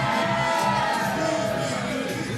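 A wrestling arena crowd in the Wrestling Evolution video game, a continuous roar of many voices with scattered shouts and whoops rising and falling, heard from a distance and holding steady throughout.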